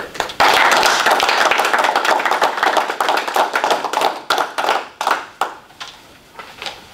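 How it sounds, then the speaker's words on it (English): A township board meeting breaks into a round of applause, dense clapping at first that thins into scattered, sparser claps before fading out, close and fairly loud with no talking. "I would like to ask the board to join me in a round of applause in honor of this historic occasion"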